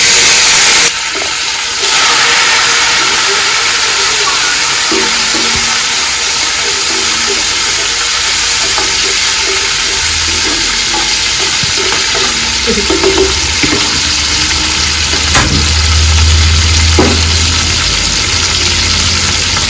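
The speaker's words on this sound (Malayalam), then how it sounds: "ആദ്യം കുറച്ച് കറിവേപ്പില ഇട്ട് കൊടുക്കാം" Curry leaves and fenugreek fry in hot oil for a quick sardine pickle, giving a loud, continuous sizzle and crackle with a low rumble beneath and occasional sharp pops and clinks of a spoon.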